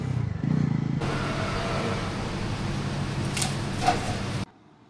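A passing car's engine rumbles and rises as it overtakes on a highway, a steady loud drone filling several seconds that ends abruptly and leaves only faint background.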